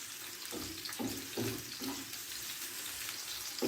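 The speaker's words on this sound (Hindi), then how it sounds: "इसमें मैं प्याज डालूंगी" Onions fry in hot oil with a steady, soft sizzle, broken by a few louder stirring pulses early on.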